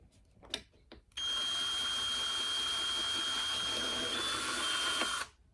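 A drill bores through a plastic part from an RC Element Ecto light kit, a steady high whirring buzz that runs for about four seconds after a few faint handling clicks, then cuts off.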